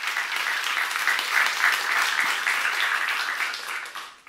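A church congregation at a seminar breaks into dense, sustained clapping, loud and close, holding steady for about four seconds before tapering off at the end.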